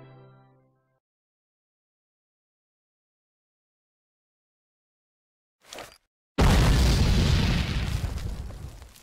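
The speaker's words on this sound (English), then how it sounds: "Union artillery decimates Southern ground troops." Union artillery barrage in the Civil War Secret Missions video game at Devil's Den: after silence, a short whoosh gives way to a heavy, loud explosive boom that rumbles on and slowly decays.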